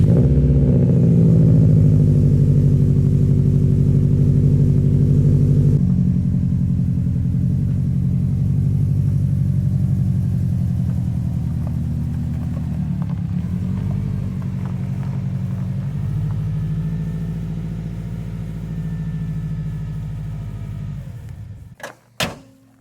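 Subaru WRX STI engine idles on a cold start with a loud, deep, steady rumble that eases slightly partway through, then cuts off near the end with a brief clunk, as of a door.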